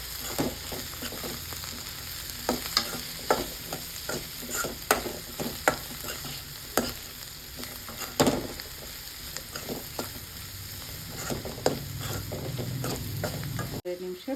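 Chili, coriander and garam masala powders fry with cauliflower in an oiled pan, a soft continuous sizzle broken by frequent scraping, clacking stirs of a spatula at irregular intervals.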